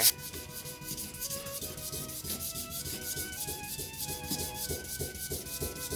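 Steady back-and-forth rubbing of a badly out-of-flat Stanley No. 18 block plane iron being lapped on a sharpening stone, continuous rhythmic scraping strokes, close and fairly loud, no voices.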